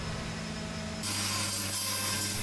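A band saw cuts into a piece of spruce angled to follow the curve of a barrel. The steady machine hum jumps into a louder, rasping cut about a second in and continues to the end.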